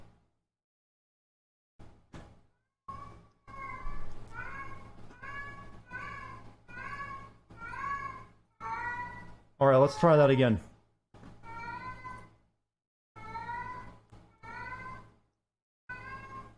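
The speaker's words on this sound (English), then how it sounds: "my cat is making a lot of noise" A female cat in her first heat of the year meows repeatedly, each call rising and falling in a steady series of loud, nearby cries, with one harsher burst near the middle. A person speaks briefly under the calls.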